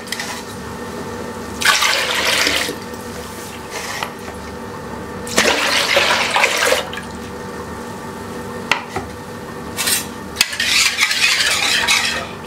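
Water is poured into flour in a pot and stirred, giving several bursts of splashing and sloshing at home with no one talking.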